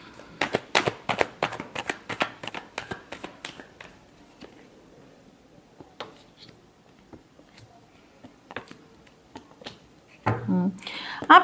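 Tarot cards being shuffled by hand, giving a quick series of crisp riffling snaps and slaps close by, thinning into softer sporadic card taps, then a final louder rustle at the end.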